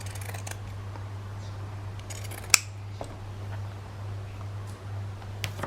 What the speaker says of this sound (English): so I'm going to cut off a bit more